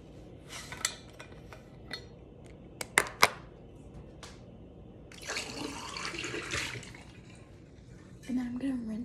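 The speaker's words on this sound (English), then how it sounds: "And then I'm gonna rinse it out." Water runs and splashes while a big, bulky water bottle is rinsed out at a sink late at night, with scattered clinks and drips before a longer gush of flowing water, all fairly quiet and close.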